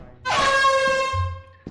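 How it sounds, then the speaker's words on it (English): An air horn blares in the video game Lethal Company, one loud sustained harmonic blast lasting over a second before cutting off, with a low rumble underneath near the end. "Air horn."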